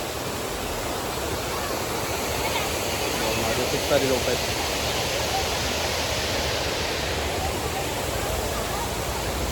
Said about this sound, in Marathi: हा बघा कसा पाण्याचा आवाज पण एकदम जोरात आहे